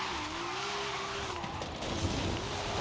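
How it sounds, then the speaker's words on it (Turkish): A Toyota Supra drifting in Forza Horizon 5, its engine holding a sustained tone while the tires skid and screech briefly near the middle. "harika drift attım"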